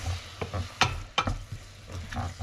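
Chili and salmon are sautéed in a pan for spicy salmon with black beans. A close sizzle runs under several sharp scraping strokes from the stirring utensil, and no one speaks.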